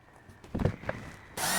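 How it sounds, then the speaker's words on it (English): A power drill bores small guide holes in wooden boards, with a few handling knocks first and then the motor whirring up loud and close near the end. "I'm going to make just some short, tiny little guide holes with my drill."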